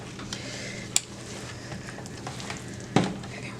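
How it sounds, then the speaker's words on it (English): Homemade vegan soap batter is stirred by hand into scent, making a soft, steady swishing close by, broken by two sharp clicks near the start and end. "I will hand stir the scent in, and hopefully we won't accelerate too much."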